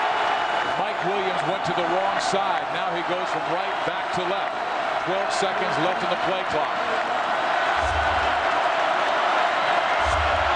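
Roaring football stadium crowd at a 2003 USC vs. Cal college game, a loud sustained wash of cheering and noise filling the background throughout, with a commentator talking over it.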